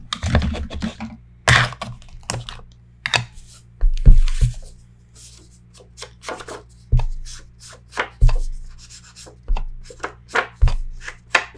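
Sharp cutting strokes on paper for a Stamperia Savana mini album, a dozen or so crisp isolated snips and thunks spaced irregularly, close and fairly loud with quiet gaps between.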